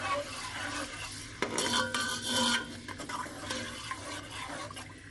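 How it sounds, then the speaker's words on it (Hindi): Peas pulao with chicken stock just added is stirred in a pot. A spoon scrapes and clinks against the pot over a low, steady simmering sizzle, with one louder burst of stirring partway through, and no one speaks. "ये देखिए चिकन स्टॉक मैंने डाला है और थोड़ा सा मैं इसको मूव कर रही हूँ।"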